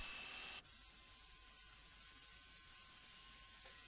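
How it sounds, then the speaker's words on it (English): A jigsaw on a slow setting cutting a pumpkin shape out of pallet wood, a loud, steady buzzing whine that starts abruptly and runs without a break. "now I'm going to use the jigsaw to cut out the pumpkin shape"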